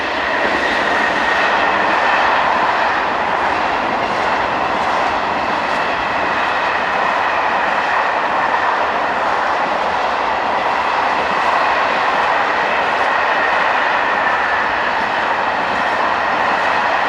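Two coupled TGV Sud-Est high-speed trainsets heading south make a sustained, loud rushing roar with faint rail clatter, steady throughout with no voices.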